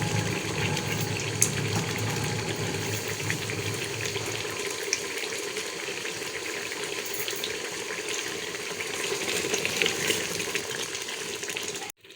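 Mutton for palak gosht cooking down in a pot as its liquid dries off, a steady close hiss and bubbling sizzle that runs continuously, with no talking, then cuts off at the end.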